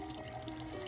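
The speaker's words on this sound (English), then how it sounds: "Time for some pouring of water." Water pours in the cooking video game Cooking Mama, a brief, soft liquid trickle with light dripping tones, fairly faint and heard alone.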